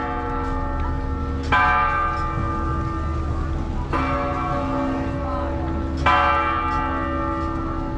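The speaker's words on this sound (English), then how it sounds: "it's a big tower with a fairly big bell in it." A large church bell in a big tower tolls three times at slow, even intervals, each strike ringing out and sustaining over a steady background hum, in Dubrovnik.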